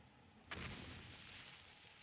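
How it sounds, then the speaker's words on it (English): A single sharp burst of video game gunfire cracks out, followed by a broad rumbling tail that lingers over steady background noise. "the gunfire. We need that direction."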